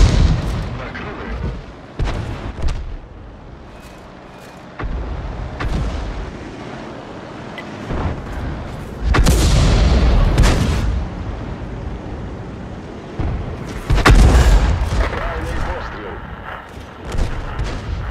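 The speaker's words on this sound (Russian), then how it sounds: "Орудие заряжено." Booming cannon shots from an AMX 13 105 light tank in the World of Tanks video game, several heavy blasts spaced across the stretch with loud peaks, mixed with game effects and radio-style crew voice callouts.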